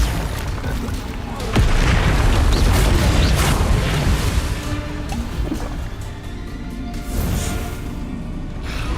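Bombarda explosion spell in the video game Hogwarts Legacy, heavy booming blasts over a dense rumbling battle din, loud and close, with a voice speaking among them.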